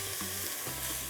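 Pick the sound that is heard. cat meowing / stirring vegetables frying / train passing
stirring vegetables frying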